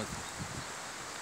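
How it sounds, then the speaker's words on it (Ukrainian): Wind sways the crowns of tall pines in a forest where some trees have been toppled, giving a steady, close, broadband rustling hiss with no pauses or voices. "І вітер так от розхитує їх крони."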